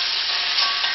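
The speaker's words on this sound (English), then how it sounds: "and that sound is what you want when you're stir frying" Shrimp sizzling in a hot wok during a stir fry, a loud, continuous hiss of frying that holds steady throughout with no voices.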